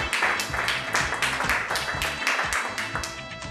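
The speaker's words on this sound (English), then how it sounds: "Can we get a round of applause for not sleeping with your ex anymore?" A studio audience claps in a steady round of applause at a comedy show, dense and continuous throughout with no talking over it.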